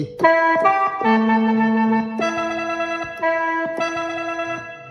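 A reedy, droning khaen mouth-organ sample on a Yamaha S-650 keyboard plays sustained chords with a few short accented notes, bright and buzzy, with no voices.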